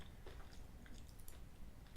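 Close, steady crunchy chewing of a Snickers Crisper bar with crisp rice pieces, a continuous run of moist bites and crackles lasting a couple of seconds with no talk.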